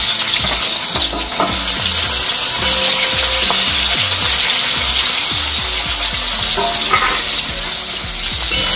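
Hilsa fish pieces frying in hot oil, a loud, dense, continuous crackling sizzle that stays close and steady throughout, with occasional clinks and bubbling bursts and no talking.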